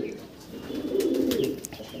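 Adult pigeon with clipped flight feathers, held in a newly set-up loft, gives a low continuous coo that swells in the middle, close and moderately loud, with no talk over it.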